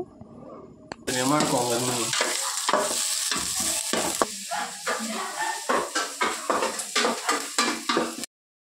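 Chops frying in a pan with freshly ground masala, a loud close sizzle followed by a run of rhythmic scraping stir strokes, with no voice over it.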